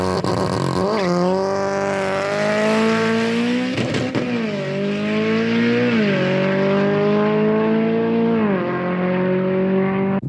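A modified Audi S3 launching hard on a race track, its engine revving loud and close in long rising pulls broken by brief gear-shift dips, with a slight bog at the start.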